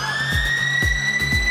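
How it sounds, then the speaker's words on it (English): A steady, sustained electronic half-time siren drones at a rugby match between the Pacific Islanders and the Springboks in 2004, with dull thuds breaking in beneath it at intervals. "Half-time siren sounds"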